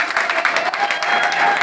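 Congregation applauding in church at a pastor's consecration, dense steady clapping from many hands, loud and close throughout the short stretch.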